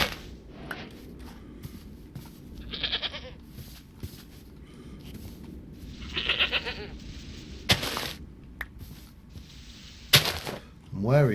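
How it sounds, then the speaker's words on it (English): Goats bleat in TerraFirmaCraft, several separate wavering calls spread across the scene over quiet game ambience, some nearer and louder than others. "I'm wary of these goats"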